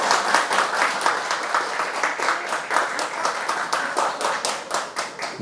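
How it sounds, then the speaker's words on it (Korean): A lecture-hall audience claps in a steady rhythmic unison, sharp repeated hand claps at a brisk even pace, close and lively throughout without speech over it. "박수를 쳐주고 싶어요"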